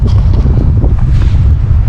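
Strong wind blows over a rooftop, a loud continuous low rushing buffeting with no speech.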